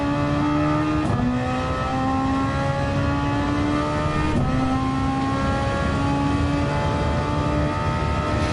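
Engine of a car in Gran Turismo 7 heard from the cockpit on the Tokyo Expressway, droning loud and continuous as it climbs through the gears with brief dips at each shift.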